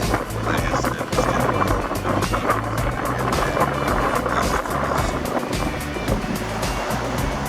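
Sea waves at Mudanya wash and break continuously with a loud, roaring hiss, wind buffeting underneath the surf.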